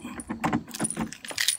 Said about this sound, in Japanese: 鍵開かねえな、 開け方わかんねえな。